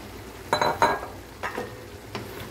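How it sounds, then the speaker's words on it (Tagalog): Pork meat going into a hot pan for binagoongan, a few quick clattering bursts of metal utensil against pan over a soft frying sizzle, close and moderately loud, then settling back to a low hiss. "lagyan na natin yung ating karne"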